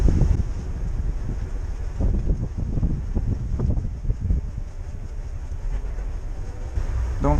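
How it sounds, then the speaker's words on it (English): Wind blowing over the Mississippi River buffets the microphone in a constant low rumble with gusty swells, loud and close throughout. "The wind changes direction in here and blows right down that."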